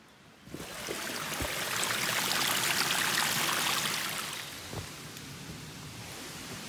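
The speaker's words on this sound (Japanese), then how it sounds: "超いい滝じゃん。" A waterfall at a camping spot roars as a steady broadband wash that swells in after half a second, holds loud and close, then eases slightly, with a couple of soft knocks near the end.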